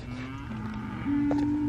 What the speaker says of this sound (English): We got some cattle, boy, right?